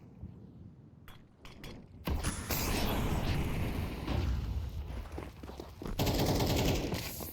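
Dense automatic MAC-10 fire in a Counter-Strike match on Anubis, with sparse single shots at first, then sustained loud, rattling bursts that continue nearly without pause, with a sharp renewed burst toward the end.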